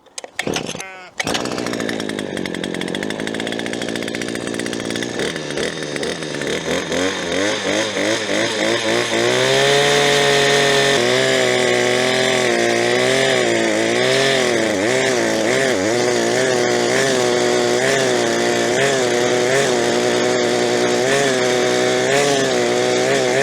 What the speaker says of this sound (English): Let's cut a hole with the petrol one first